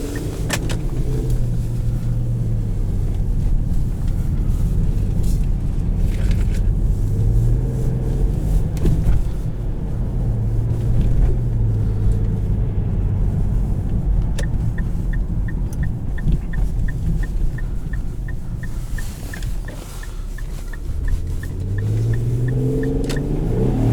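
A 2010 Infiniti M35x engine pulls hard under acceleration on a test drive, its loud, steady interior drone climbing through gears with rising and falling pitch sweeps and a constant road rumble.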